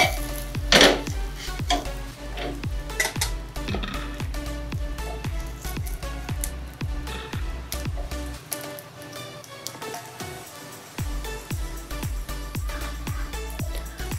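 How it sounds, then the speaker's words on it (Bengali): Patishapta pitha, flour crepes with a sandesh filling, sizzle steadily in a frying pan, a continuous close crackle broken by light regular clicks and taps of a utensil, with no talking. "সব পাটিসাপটা আমার এই রকম ভাবে ভাজা হয়ে গেছে।"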